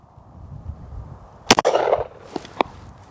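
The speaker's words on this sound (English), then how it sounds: "So 45, Glock 21, Tacticon Armament" A .45 Glock 21 round strikes a Tacticon Armament armor plate with one sharp, loud crack and a short rumbling tail, followed by a couple of fainter clicks.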